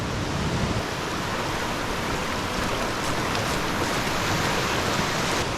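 Fast-flowing whitewater on Emmerson Creek, a broad, steady rushing roar of speeding water close by, continuous and unbroken with no talk over it.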